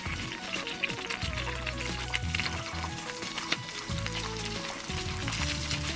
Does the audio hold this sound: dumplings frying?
yes